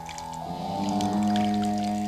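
Water is poured onto soil in a short, continuous stream, a close, smooth gurgling pour that swells slightly and then holds steady for about two seconds.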